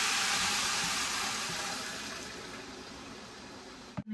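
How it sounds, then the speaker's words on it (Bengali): Water pours steadily into a cooking pot of rice, a loud, broad rushing splash that gradually eases before a brief knock near the end. "কষানো শেষ, এখন আমি পানি দিয়ে দিচ্ছি।"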